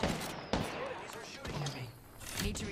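Rapid gunfire in Apex Legends cracks out in loud bursts with sharp onsets, mixed with game effects and a voice talking over the shots.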